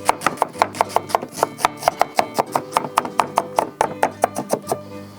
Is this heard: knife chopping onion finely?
yes